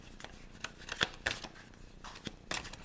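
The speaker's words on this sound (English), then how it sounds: "let's give the deck a quick shuffle" A tarot deck is shuffled in quick, soft riffling bursts and taps, quiet and close with no voice.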